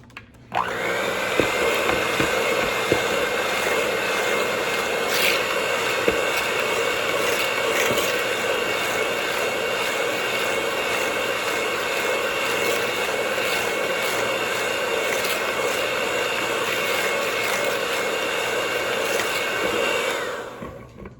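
An electric mixer whirs steadily through peanut butter cookie dough with salt and baking soda, a loud continuous motor drone with occasional clicks that winds down at the end.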